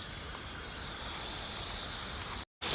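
Crab frying in hot oil in a village-style spicy crab fry, a steady loud sizzling hiss that holds throughout and cuts out briefly near the end.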